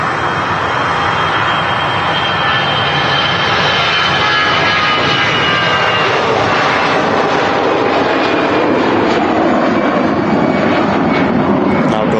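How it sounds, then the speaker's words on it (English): A SmartLynx jet airliner flying for TUI at Manchester Airport roars loudly and steadily for the full length, its engine noise broad and continuous with rising whine tones, while a person talks over it. "That SmartLynx aircraft operating for TUI today. It's out on the flight to Rhodes."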